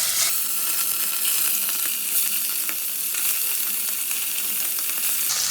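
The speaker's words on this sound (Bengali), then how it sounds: "এবার আমি তেলে এক এক করে মাছগুলো ছেড়ে দেবো।" Khoira fish dropped into hot mustard oil for a mustard-paste fish curry, a loud, steady sizzle of frying that hisses on without pause and close to the pan, with no voices.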